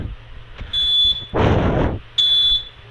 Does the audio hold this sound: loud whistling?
no